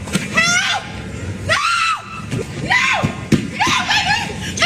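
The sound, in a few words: woman screaming for help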